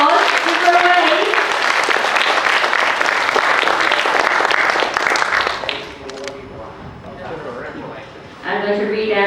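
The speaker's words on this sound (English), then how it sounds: "Can we give Tepi a round of applause?" An audience at a Year 6 school assembly applauds Tepi with loud, steady clapping for about six seconds, then it fades and voices talk.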